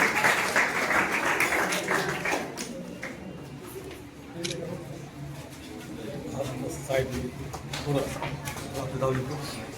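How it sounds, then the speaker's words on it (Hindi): Audience applause for the second-place winner of a block-level school quiz competition, a broad wash of clapping filling the hall, loud at first then thinning and continuing under overlapping voices. "जोरदार ताली मांगिए।"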